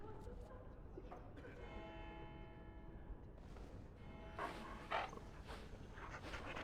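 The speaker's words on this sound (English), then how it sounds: "At least the dog's happy." A dog companion in the fantasy role-playing game Dragon Age: Origins gives a few short, happy bark-like yelps amid the game's background music, with a brief spoken voice nearby.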